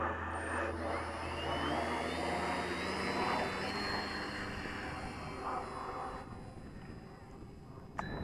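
A radio-controlled trainer model airplane flying overhead, its small engine giving a steady whine that shifts in pitch as it passes, fairly faint and continuous, then thinning out toward the end.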